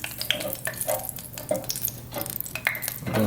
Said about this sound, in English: Now they're ready to go in the grease. My grease is already preheated.